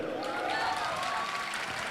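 An audience at a university event applauds, a dense, steady wash of clapping lasting a couple of seconds with crowd noise mixed in.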